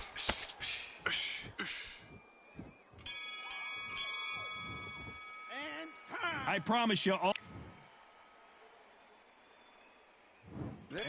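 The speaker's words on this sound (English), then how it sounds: "there's the bell to start the round" A boxing bell rings out to start a round in a boxing video game, a short metallic tone amid crowd noise and commentary, with people talking over it.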